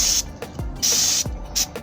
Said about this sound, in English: I'm gonna spray a little bit of carburetor cleaner on this